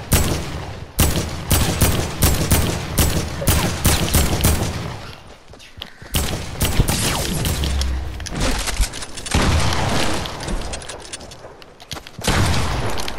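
Rapid bursts of gunfire from a new shotgun and other weapons in a Fortnite Battle Royale Team Rumble match, sharp repeated blasts in dense clusters with brief pauses between volleys, loud and close.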